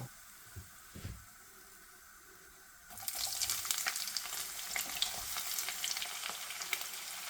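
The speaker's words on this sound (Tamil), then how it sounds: "நாங்கள் வெங்காயத்தை போடுறோம்" Onions dropped into hot oil with cumin seeds, curry leaves and dried chillies burst into a loud, steady sizzle after a few quiet stirring knocks, with crackling spits running through the frying.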